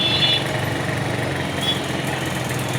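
A Passion 125cc motorcycle engine idles during a carburetor adjustment, a steady, fairly loud low putter that holds an even, unbroken rhythm throughout.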